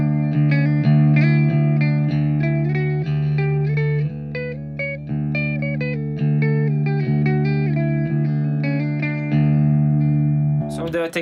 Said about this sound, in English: maybe I can do it in drop D also